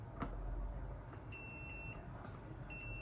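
Multimeter in continuity mode beeping while probing an Amiga 500 Rev 6a circuit board, two short high-pitched tones over a quiet background hiss.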